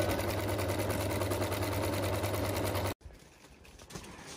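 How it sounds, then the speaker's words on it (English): A sewing machine whirs steadily at close range with a fast rhythmic stitching hum, then stops abruptly, leaving quiet room noise. "threading a sewing machine is hard."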